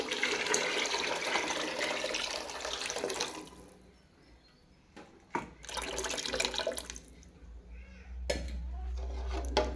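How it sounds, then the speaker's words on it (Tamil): Tamarind water pours steadily into a pot of fish curry with a broad splashing rush, then stops; a few short clinks and renewed pouring follow, close by, with no talking. "நம்ம இதில் புளி கரைச்சலை எடுத்து ஊற்ற போகிறோம்"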